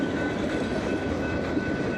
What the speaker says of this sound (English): So I've never been in town or downtown when the train is passing, but it is super loud.